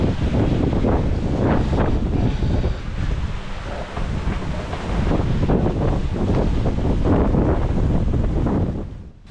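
Ocean waves and strong wind at sea aboard a small sailboat sailing solo from Polynesia toward Fiji, a steady roar of wind buffeting the microphone with rhythmic surges of surf and spray throughout.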